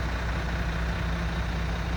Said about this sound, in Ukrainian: Гарно працює, двигун, трансмісія, нарікань немає ніяких.